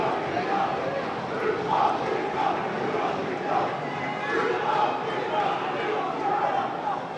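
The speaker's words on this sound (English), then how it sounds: "Is that our fans? Lots of energy" Football crowd at a Queen's Park Rangers versus Swindon Town academy match, cheering and chanting with steady energy throughout, a continuous dense roar of many voices.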